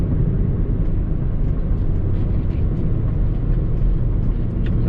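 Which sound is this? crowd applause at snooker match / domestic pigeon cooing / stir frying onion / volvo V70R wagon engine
volvo V70R wagon engine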